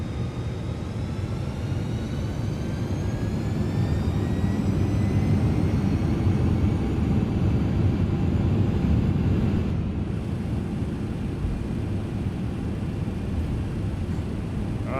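TFDi MD-11 jet engines spooling up for takeoff in MSFS 2024, a steady, fairly loud broadband roar with thin rising whine tones above it, heard alone with no talking.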